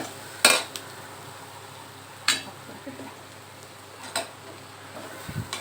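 Spoon scraping and clinking against a pan while mashed plantain crumble is stirred: three or four sharp metallic strikes spaced a couple of seconds apart over quieter background scraping.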